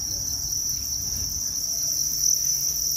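Thai crickets on a cricket farm chirp in a dense, unbroken high trill, loud and close, holding steady for the whole stretch with a faint low rumble underneath and no talking.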